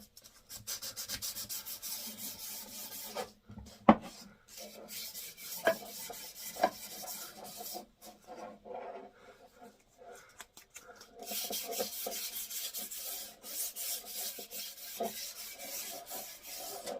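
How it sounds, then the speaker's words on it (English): A knife blade scraping along a wooden handle of a cast steel double bit axe, giving dry rasping strokes in bursts separated by pauses, with a few sharp clicks, fairly quiet and close. "just give the handle a good knife scraping"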